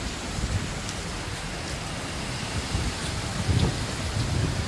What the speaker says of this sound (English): It's now literally pouring.